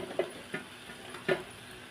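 A spoon stirs a potato and brinjal stir-fry with coriander leaves in a pan, with a few soft scraping strokes over a faint sizzle, close and quiet.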